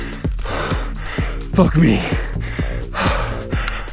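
Heavy, ragged gasping for breath right after a mountain bike race run down a steep trail, loud and close, with short rhythmic panting bursts and a swearing voice mixed in between breaths.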